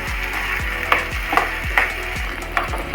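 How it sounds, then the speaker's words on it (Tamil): Onions with a few curry leaves sautéing in a pan for adai dosa: a continuous close sizzle with soft rhythmic stirring knocks under it, no one speaking. "வெங்காயம் நல்லா வதங்கி வரட்டும்"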